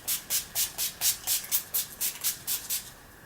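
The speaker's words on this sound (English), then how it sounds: "I'm just going to spray" Makeup setting spray misted in a quick run of about fourteen short, even bursts, close and crisp, with no talking.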